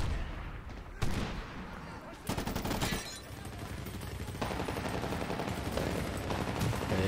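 Gunfire in Medal of Honor: Warfighter comes in sharp bursts: a few heavy shots, then sustained rattling automatic fire with a dense, continuous roar of battle beneath it.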